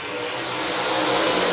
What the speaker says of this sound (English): Stovall brings him around, hits that loud pedal